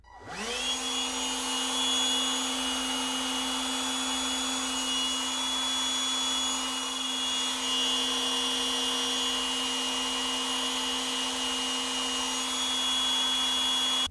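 A Milwaukee M12 cordless spot blower fitted with a long nozzle and a high-output 5.0 battery runs continuously, a steady close whine with a constant motor tone from spin-up to end, no speech.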